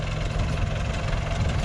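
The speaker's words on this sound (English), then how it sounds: "Look at my exhaust shaking." An old car engine idles steadily with a low, rough rumble and a shaking, vibrating exhaust, the loud continuous drone filling the clip with no speech.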